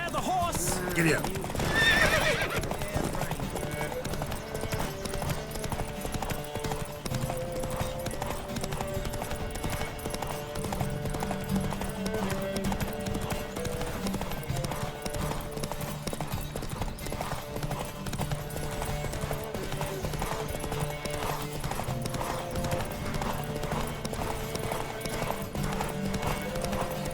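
Hooves clip-clop at a steady gallop while horses neigh and whinny during a video game horse race with a Nilfgaardian stallion, the galloping continuous and loud throughout, with a burst of activity near the start and voices under it.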